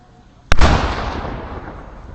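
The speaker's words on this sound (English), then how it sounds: "That was the cannon." A single deep, booming ceremonial cannon blast at Arlington National Cemetery on Veterans Day erupts suddenly after a brief quiet, then a long rumbling echo slowly fades away.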